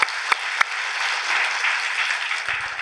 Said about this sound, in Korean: 우리 예수님께 박수 영광 돌리겠습니다.